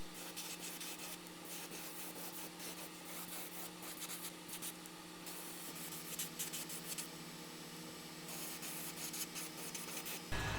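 An airbrush lays a light pearl satin gold coat over brown paint on a handmade glide bait in a gizzard shad pattern, giving a steady, close airy hiss that runs almost unbroken, with brief pauses near the end.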